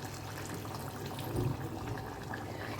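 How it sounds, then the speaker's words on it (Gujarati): Water pours into a pot of simmering moong dal and bottle gourd with jaggery and spices, a steady close splashing rush with a brief louder gush midway. "અને થોડુંક પાણી ઉમેરી દઈશું"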